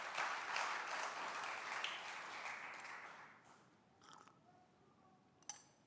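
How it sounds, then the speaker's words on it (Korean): A church prayer-meeting congregation applauding, a soft, dense patter of many hands lasting about three seconds before fading into quiet, followed by a few faint stray clinks. "박수."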